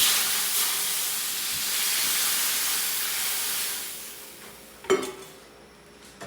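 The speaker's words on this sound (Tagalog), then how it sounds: "Pakukuloan naman natin yan." Water boils in a cooking pot with a loud, steady hissing roar, followed by a sharp metallic clink near the end.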